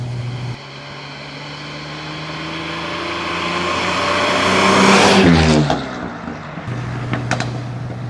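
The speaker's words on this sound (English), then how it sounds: "the engine noise fades slightly, so it's not quite as loud as I thought it was going to be" Vintage Bentley from James Bond's films, engine droning while driving and pulling up through the gears in a steady, rising roar that swells, drops sharply at a shift, then settles back to a lower hum.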